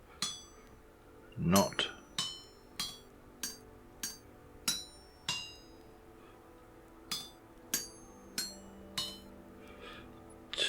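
Repeated metallic hammer strikes on a copper chisel over an anvil in Vintage Story, about fifteen sharp ringing clinks in an uneven rhythm, with a brief voice near the start.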